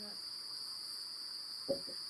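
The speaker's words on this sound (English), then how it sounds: "sounds like crickets" Steady insect chirring like crickets or cicadas, a continuous high buzzing drone throughout, with a brief faint thump near the end.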